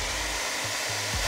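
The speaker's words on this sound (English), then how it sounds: "We're probably gonna like burn the hairdryer out," A hair dryer runs steadily at close range with a constant roar while melting crayons on a pumpkin; no voices.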